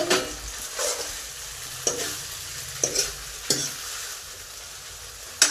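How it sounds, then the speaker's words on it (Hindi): Chow mein is stirred and tossed with spices in a hot frying pan, a steady sizzle broken by repeated sharp scrapes and clacks of the utensil against the pan at irregular intervals, close and clear. "अच्छा से ना मिक्स कर लेना है, मिला लेना है सब मसाला में।"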